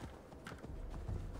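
Horse hooves clip-clopping in the video game Assassin's Creed Valhalla, a steady low trotting rhythm under a murmuring game soundscape, fairly faint and continuous.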